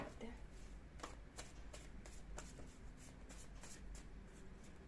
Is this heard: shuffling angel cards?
yes